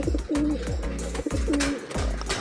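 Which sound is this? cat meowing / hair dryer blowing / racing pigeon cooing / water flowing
racing pigeon cooing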